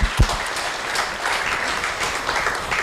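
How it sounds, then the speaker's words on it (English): An audience at a childcare conference applauds the governor, a dense burst of clapping that swells quickly and holds steady at moderate loudness throughout. "Let's give a round of applause to the governor."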